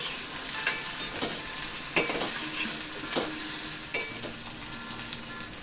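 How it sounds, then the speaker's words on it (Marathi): Slit okra sizzling in hot oil in a pan for a Bhendavni curry, a continuous frying hiss broken by several sharp scraping stirs of a spoon, close and moderately loud with no talking. "मध्ये ती तेलामध्ये परतून घेऊया"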